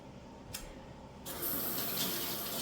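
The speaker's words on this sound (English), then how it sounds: "Wash my hands real quick" A kitchen tap is turned on, and water gushes steadily into the sink for hand washing, close and fairly loud after a brief click.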